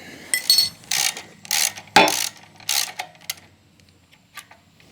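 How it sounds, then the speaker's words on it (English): Ratchet wrench working loose the rear brake adapter bracket on a KTM motorcycle, giving several short, close bursts of rapid clicking with brief pauses between them, and no talk. "now I'm going to remove this adapter bracket"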